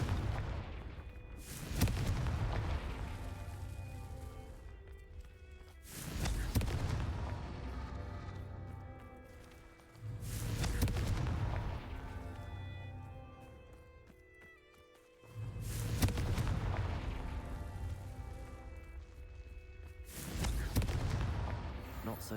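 Confringo blasting spells exploding in the video game Hogwarts Legacy, heard as five loud, booming blasts spaced a few seconds apart, each with a long rumbling decay and some ringing tones between them.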